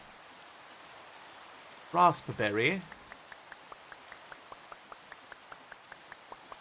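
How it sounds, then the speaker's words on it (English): Minecraft rain falling as a steady hiss with evenly spaced soft droplet ticks, heard alone after a brief spoken word near the start. "turning off the rain, thanks."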